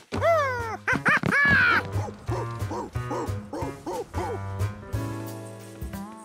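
Cartoon dog barking and yipping in quick bursts near the start, followed by whimpering, yelping vocalizations over a soundtrack of animated-show music, loud and close throughout.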